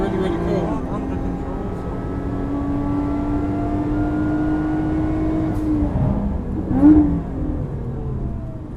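A Lotus Evora 400 drives on a race track in Dubai, its engine a steady droning hum that rises and falls in pitch as it moves, heard under someone talking.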